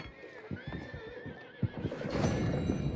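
Horses neigh and whinny in Red Dead Redemption 2, several calls with rising pitched tones over a steady bed of clip-clopping hooves and game ambience, fairly loud and close.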